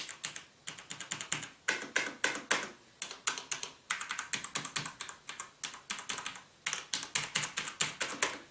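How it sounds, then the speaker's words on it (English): Keys on a Tt eSports MEKA G1 mechanical gaming keyboard being typed on at a steady pace, a dense run of sharp, close clacks in quick bursts with brief pauses between them. "as it is mechanical, it makes a fair bit of noise when you hit a key down"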